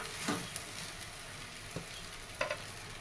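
Puffed rice (churmure) tipped into a hot pan and stirred during frying for sushila, a light steady sizzle with a few scraping stirs and soft pattering close by.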